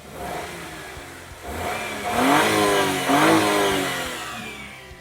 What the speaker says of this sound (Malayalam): നമുക്ക് എഞ്ചിൻ ഒന്ന് സ്റ്റാർട്ട് ചെയ്ത് നോക്കാം